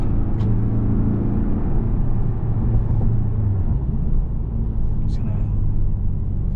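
A 2024 Porsche 718 Boxster convertible with a PDK transmission cruising, a steady low engine rumble with slight changes in pitch, heard from inside the car.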